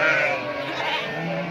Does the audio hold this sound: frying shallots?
no